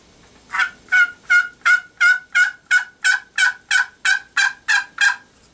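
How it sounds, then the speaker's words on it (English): A turkey box call rasps out a rapid run of about thirteen evenly spaced yelps, loud and close, with nothing else in the background. "That's your box call."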